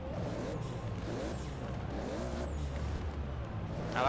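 A continuous engine drone with rising revs from a car in Forza Horizon 4 drag racing, accelerating steadily, loud and up close throughout.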